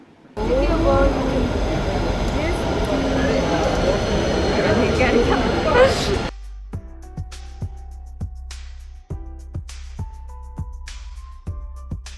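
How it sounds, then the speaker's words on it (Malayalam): A Bangalore metro train rumbles loudly with rising and falling roar, then drops to a steady low hum with a repeating electronic chime pattern and faint voices. "മെട്രോ റൈഡിന് വേണ്ടി പോവുകയാണ്"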